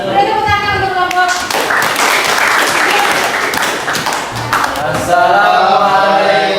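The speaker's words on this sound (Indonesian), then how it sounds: "Beri tepuk tangan untuk kelompok." Classroom students clap for a presenting group during an Islamic religious education teaching practice: bursts of close, loud clapping mixed with children's voices, beginning under talk and then swelling into a dense round of applause.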